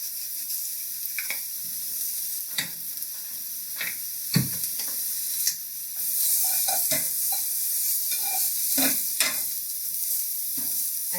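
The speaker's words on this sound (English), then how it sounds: "So just a little olive oil in the pan, and we're going to saute the leeks." Leeks sauté in olive oil in a pan with a constant soft sizzle and hiss, broken by repeated scraping stir strokes and the odd clink of a utensil, close and with no talking.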